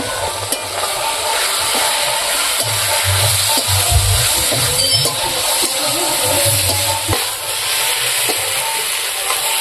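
Eggplant and potato ghonto with spice paste cooks in a pan with a continuous close, loud sizzle and hiss, broken by occasional clinks and stirring scrapes, with no talking.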